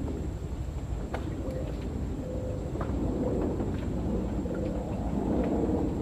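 Steady light drizzle falling outdoors during a fishing trip for kiper fish, a continuous soft hiss of rain that holds at an even level throughout, with a few faint distant thumps and no talking.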